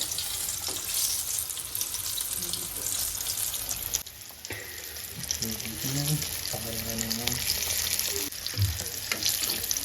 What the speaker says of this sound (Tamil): ஒரு சைடு 3 நிமிஷமும் அதுக்கப்புறம் திருப்பி விட்ட பிறகு 3 நிமிஷமும் நல்லா ஃப்ரை ஆகணும்.